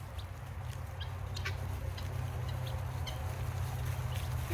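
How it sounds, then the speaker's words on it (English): Guinea fowl in a farmyard giving soft, scattered calls, a few faint chirps over a steady low rumble, without talk. "For those of you that hate the sounds of our guineas, they are actually quiet sometimes"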